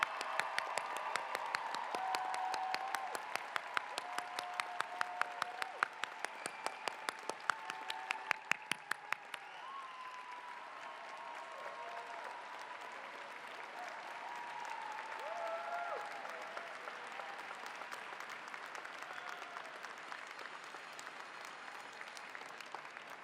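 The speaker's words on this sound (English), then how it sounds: "Let's give a huge hand of applause for all of the APRN graduates" Graduation crowd applauding APRN nursing graduates at the 2017 Columbia Nursing ceremony, sustained clapping from a large hall audience that starts crisp and distinct, then softens into a diffuse, more distant ovation.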